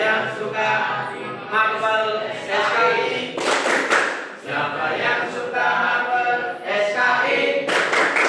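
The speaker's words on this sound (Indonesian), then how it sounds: "Siapa yang suka hati tepuk tangan?" A class of students clapping their hands in bursts between sung phrases, the claps rising and fading in rhythmic clusters while voices sing along over them.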